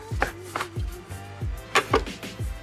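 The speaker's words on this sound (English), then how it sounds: "So I'm gonna cut myself some bread off." A knife cutting a slice from a loaf of bread on a board, with a series of about eight short, close, rhythmic chopping and sawing strokes.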